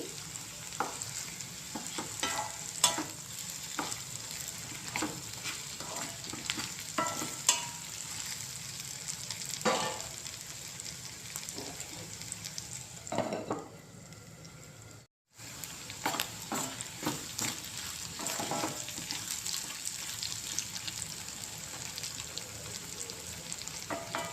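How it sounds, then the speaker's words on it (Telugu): Bitter gourd (kakarakaya) slices fry in a pan, giving a steady sizzling crackle over about 24 seconds with occasional stirring scrapes and a brief gap of silence midway; no talking. "ఎంత ఫ్రై అవుతే అంత బాగుంటుంది ఫ్రై అయితేనే కాకరకాయ ఫ్రై"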